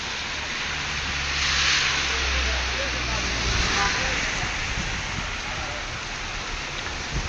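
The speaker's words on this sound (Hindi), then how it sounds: "बारिश बहुत तेज़ हो गया है बारिश।" Heavy rain pours down in Madinah, a dense continuous hiss of drops that swells slightly and then holds steady, close by.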